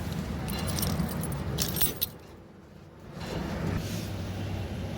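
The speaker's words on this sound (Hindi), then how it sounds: "ये इसकी चाबी है" The keys of a 2020 Toyota Land Cruiser jangle close by in bright metallic bursts, with a brief sharp clink at the middle before the sound quietens and then picks up again against a low background rumble.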